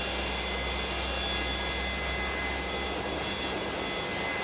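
A Boeing 727-200F jet engine spools up during start in Microsoft Flight Simulator, giving a steady, even whine and rush with faint tonal lines and no speech.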